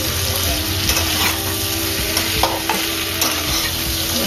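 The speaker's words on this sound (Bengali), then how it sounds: "সবজিগুলো সব ভাজা হয়ে গেছে," Vegetables stir-fried in a wok over a high gas flame, with a continuous loud sizzle and frying crackle and repeated scraping stirs throughout, with no talk.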